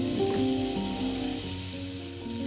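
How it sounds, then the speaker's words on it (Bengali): Whole garam masala sizzles in hot butter in a wok: a steady, close, bright frying hiss runs throughout, with sustained tonal notes layered underneath. "কড়াই গরম হয়ে গেছে, দিয়ে দিলাম বাটার। দিলাম অল্প পরিমাণে গোটা গরম মশলা"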